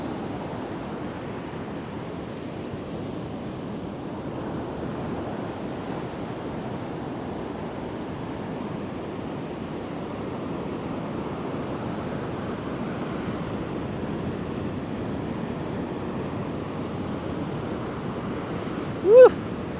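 Steady wash of wind and ocean surf on a sandy beach, continuous broadband rumble at an even level throughout, with one brief sharp blip near the end.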